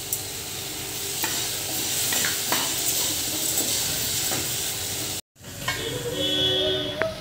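Soaked and dried moong dal dry roasting in a pan, a continuous grainy hiss with occasional stirring scrapes, then a brief cut followed by a similar hiss with a faint tonal whine, no voices.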